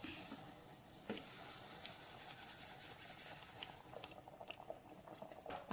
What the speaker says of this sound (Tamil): தண்ணி கொதித்து வருது.